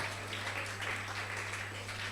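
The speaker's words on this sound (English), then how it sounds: "you really need to give yourself a round of applause." Students at a summer programme closing ceremony give themselves a round of applause: even, continuous clapping from a crowd, fairly distant and quiet, over a steady low hum.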